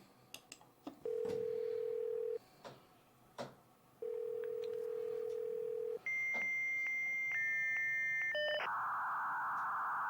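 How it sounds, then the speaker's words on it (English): Dial-up modem connecting: a rapid string of dialing tones and steady held tones, then shifting handshake whistles and beeps ending in a loud burst of hiss, close and clear with no talk. "This modem is so slow."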